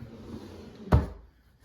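An IKEA drawer opening, one sharp close thud after a soft sliding rustle, then quiet.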